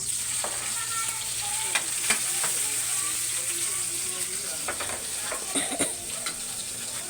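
Tomatoes fry in a pan alongside garlic and onion, giving a steady close sizzle broken by scattered clicks and scrapes of a utensil stirring, with no talk.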